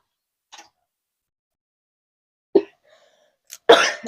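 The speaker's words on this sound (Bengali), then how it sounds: "এত কাশি হচ্ছে কি বলবো" A person gives a few short, dry coughs in an otherwise quiet room, a faint one first, then a sharper one, and finally a louder, harsher cough at the end.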